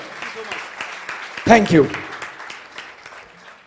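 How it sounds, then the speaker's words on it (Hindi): An audience claps for the team at a Bengal talent-show event: light, scattered hand claps run under someone speaking briefly in the middle. "मैं फिर भी चाहूंगा कि एक बार जोरदार पूरी टीम के लिए तालियां बजाई आ जाए"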